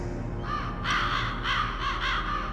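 Ravens caw in the Metal Gear Solid video game, several harsh calls in quick succession, loud and close, alone without talk.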